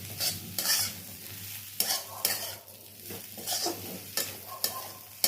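A spatula stirs a pan fry of potato and cauliflower with sugar added, giving repeated scraping strokes over a steady sizzle, close and moderately loud with no talking.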